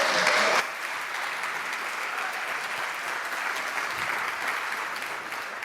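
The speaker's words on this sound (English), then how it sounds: "So give a big applause, and the floor is yours." Conference audience applauding a speaker at the WHY 2025 hacker event, a steady dense wash of hand claps from a large crowd, loudest at the start and then sustained at an even level.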